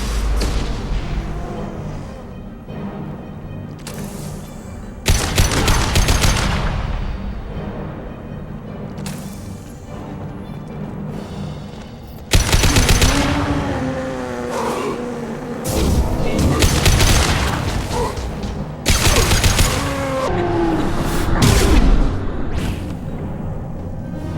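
In the video game Mass Effect 2, gunfire and explosions crackle and boom in repeated loud bursts across a combat scene, with heavy blasts separated by quieter stretches and a few voices under the din.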